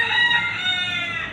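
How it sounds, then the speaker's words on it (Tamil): A rooster crows once, loud and close, in a sustained harmonic call that fills the brief moment with no voices present. "பார்த்தீங்களா கோழி கற்றுது."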